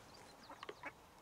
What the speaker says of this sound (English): I've got all the ducks coming now.